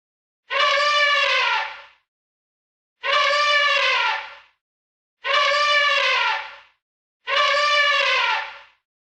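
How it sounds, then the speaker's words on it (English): Four evenly spaced elephant trumpets from an animal sound-guessing game, each a loud, harmonic blast of about a second and a half, separated by short silences. "Yes, it's the elephant."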